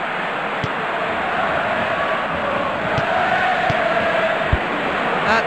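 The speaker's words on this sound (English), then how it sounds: "And the crowd rising to the one-touch football." Stadium crowd roar in the Premier Manager 97 football game during a Manchester United vs Blackburn Rovers match, a steady cheering swell at moderate level with a few sharp thuds.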